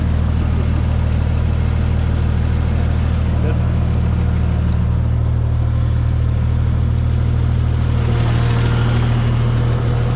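A tractor engine, with fuel slowly leaking from the fill valve, runs at a steady low idle close by, its constant rumble holding throughout with a slight shift in tone near the end.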